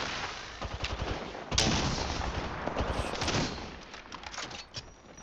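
Gunfire in the video game Apex Legends crackles in rapid bursts and sharp single shots, loud and dense throughout, with a strong blast near the middle.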